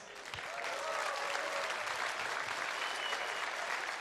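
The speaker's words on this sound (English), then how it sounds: "Please also a big applause for these sponsors." Steady, loud applause from an audience at a DreamHack 2013 StarCraft esports event, clapping for the sponsors; dense continuous clapping fills the whole stretch with no speech over it.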